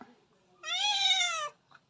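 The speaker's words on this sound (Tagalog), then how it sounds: "May nangihing nangihinging pusa." A cat begs for fish with a single clear, drawn-out meow, close and fairly loud, set in a quiet home kitchen in Bohol with faint background noise before and after.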